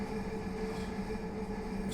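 Continuous droning hum of a simulated train in Train Simulator Classic, London Victoria to Tonbridge, a steady tonal whine over low rumble with a soft hiss throughout.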